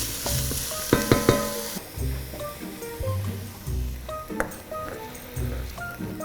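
Minced shallots and garlic sizzling as they soften in a pan, a steady frying hiss with stirring clatter and a few sharp clinks early on, close and moderately loud.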